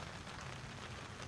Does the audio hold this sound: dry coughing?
no